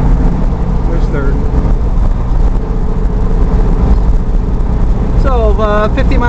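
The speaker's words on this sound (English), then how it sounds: "So 50 miles an hour, doing about 1800 RPM" Car cruising in third gear at 50 mph around 1800 RPM, a loud, steady low engine and road rumble heard from inside, with a person speaking over it.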